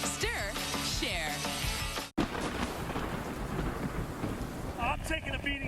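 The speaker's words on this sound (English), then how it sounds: "we're just dealing with these sheets of rain and winds that are howling 50, 60 miles per hour" Heavy Hurricane Arthur rain in sheets with wind howling at 50 to 60 miles per hour, a loud continuous roar; a person speaks over it, and a brief cut interrupts partway through.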